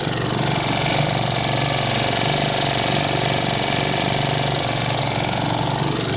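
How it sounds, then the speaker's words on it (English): A 1940 Bendix Eclipse air-cooled opposed twin-cylinder outboard motor runs at a steady idle, a loud, even buzzing drone with a fast regular firing pulse and no change in pitch, heard close with no voices. "This is a twin cylinder motor. It's actually an opposed twin, it has two cylinders. It's air cooled."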